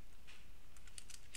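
Quiet computer keyboard typing, a short burst of soft, quick key clicks entering a group name, heard alone against faint room noise.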